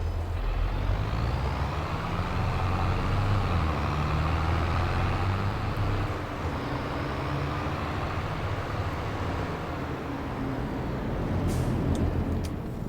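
A vehicle hauling a trailer in Farming Simulator 22 gives a steady, heavy low engine drone that holds the whole time, with a few faint clicks toward the end and no talk.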